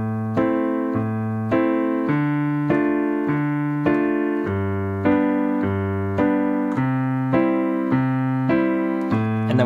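Piano plays a looping four-chord accompaniment to a song, each chord struck roughly once per second in a steady, even rhythm, close and clear with no voices.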